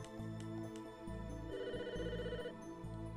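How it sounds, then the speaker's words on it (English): Telephone ringing in the Famicom Detective Club video game, a faint chiptune-style ringtone of repeated electronic tones in a steady pattern, heard alone with no talking over it. "Uh-oh, the phone's ringing."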